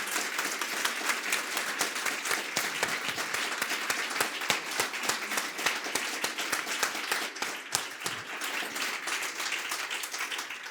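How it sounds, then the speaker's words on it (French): Audience applause following a talk on burn-out, a steady dense wash of many hands clapping, fairly loud and sustained throughout with no speech over it. "je pense qu'on peut les applaudir tous les trois."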